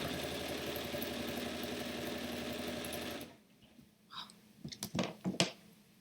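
Sewing machine running steadily during quilting, a loud continuous mechanical whir for about three seconds that then stops abruptly, followed by quieter scattered clicks and handling noises.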